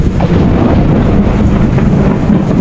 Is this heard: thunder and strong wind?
yes